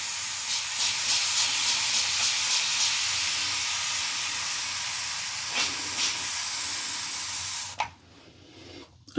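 Steady hiss of running tap water wetting the tips of a shaving brush, continuous and fairly loud for several seconds before cutting off abruptly, followed by a brief clatter.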